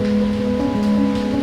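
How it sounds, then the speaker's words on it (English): Steady rain falls outdoors in North Sulawesi, a continuous broadband hiss with a strong constant hum running underneath it, unbroken throughout the short stretch. "it started raining again."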